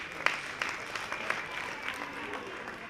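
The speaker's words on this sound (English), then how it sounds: "Clap hands for yourself." Gala dinner audience at the SADTU Limpopo provincial conference applauding themselves, a soft, distant-sounding spread of clapping with a few louder claps, steady throughout.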